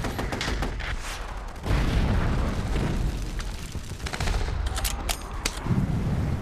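Battle fire of mortars and rockets in World War II, a dense loud barrage of booms and cracking blasts that overlap throughout, with heavier thumps at several points.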